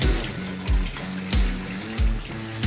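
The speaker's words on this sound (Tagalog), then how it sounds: "pinuno ko lang ng tubig ang trapal pan at check sa ilalim kung tatagas ang tubig or mababasa" Water pours from a hose or tap into a tarpaulin pond being filled for a crayfish home farm. It makes a steady splashing gush with a few soft rhythmic pulses and no voices.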